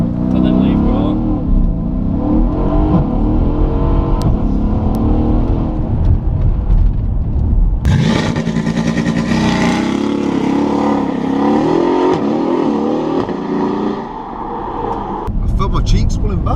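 A Mercedes E63 AMG S tuned to 736 bhp launches from a standstill under full throttle, the engine roaring and climbing through rapid upshifts at close range inside the cabin while occupants talk.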